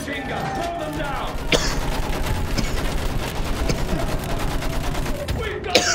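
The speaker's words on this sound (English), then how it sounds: "Use that machine gun!" Rapid machine gun fire in the World War I shooter Battlefield 1 hammers out as a dense, continuous rattle of close shots, with shouting voices mixed faintly into the battle noise.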